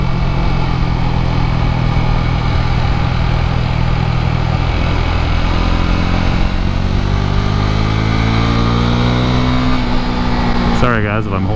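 A Husqvarna Vitpilen 401 motorcycle engine revs hard toward redline while riding, its loud, steady drone climbing in pitch over about ten seconds before a sudden shift near the end, with heavy wind noise throughout.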